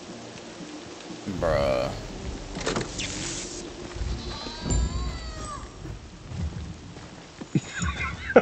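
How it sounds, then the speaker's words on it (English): Steady rain with rolling thunder fills a Dying Light 2 co-op game scene, a constant wash broken by louder rumbles, with players talking briefly over it. "Oh, and it's raining?"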